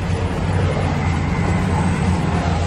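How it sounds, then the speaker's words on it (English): A long train speeds past nearby, making a steady, loud, continuous rumble and roar with no break across the whole stretch. "Got a train going fast."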